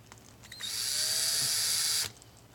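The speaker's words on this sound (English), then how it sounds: "drill the other ones in" A cordless power drill whirs steadily for about a second and a half while driving into a pilot hole during an outdoor solar security light install, close and loud, with no talking.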